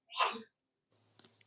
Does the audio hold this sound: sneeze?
yes